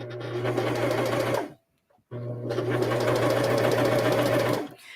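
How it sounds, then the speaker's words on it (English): A serger sewing machine runs at a steady, fast hum while stitching beads onto fabric, pausing briefly before running on again. "the serger, once it's attached the beads to the fabric, it's just going to get going"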